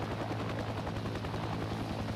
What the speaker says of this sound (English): Is that you coming in with the Chinook?